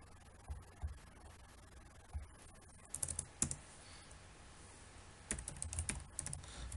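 Keys clatter on a computer keyboard in quiet, irregular bursts of typing, soft at first and then a few louder clicks, with short pauses between strokes and no talking.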